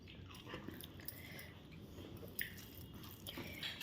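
Someone eats fish curry with long potato pieces by hand, with soft wet chewing and squishing bites, close and quiet, over faint room noise and without clear talk.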